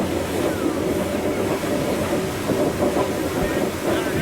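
Narrow-gauge White Pass & Yukon rotary snow plow train running near Skagway, a steady loud rumble of rolling stock with a faint hiss and clatter throughout, no voices.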